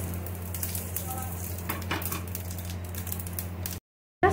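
Cumin seeds and two dry red chillies crackle in hot refined oil. The sizzle is dense and continuous, with metal utensil scrapes and light clatter, and it stops abruptly into silence just before the end.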